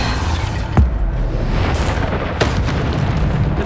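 Depulso spell blasts in Hogwarts Legacy, two sharp booming bursts about a second and a half apart, loud and close over a steady background of game ambience.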